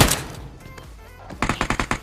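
Gunfire in the mobile battle-royale game PUBG Mobile: a first shot is followed by a rapid burst of about six sharp, evenly spaced shots at the end, loud and close, with no talking.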